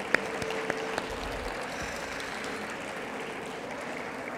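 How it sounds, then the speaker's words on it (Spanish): An audience at a book fair panel in Monterrey claps, a steady, moderately loud spread of applause with a few sharper individual claps near the start. "También un aplauso para Jorge, por favor,"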